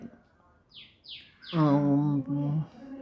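Three quick, high, downward-sliding bulbul chirps, followed by a louder, lower voice-like sound that is held briefly in two parts.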